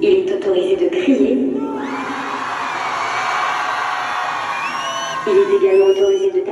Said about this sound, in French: Durant ce vol, il est autorisé de crier.